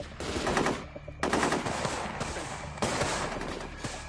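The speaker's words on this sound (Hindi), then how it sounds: "मेजर अवस्थी की टीम काउंटर फायरिंग कर रही है" Gunfire rattles during counter firing in long, loud automatic bursts with brief breaks between them, close and dense, with no talking.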